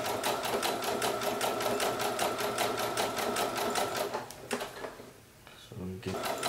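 A Brother SE1900 embroidery machine stitches directly onto a baby onesie, its needle hammering in a fast, even mechanical rhythm close by, then stopping near the end as a voice talks over it.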